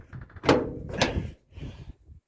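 Door of a 1951 Fargo F1-C truck being handled, giving two sharp metallic clunks in quick succession close up, followed by a softer rattle as it settles.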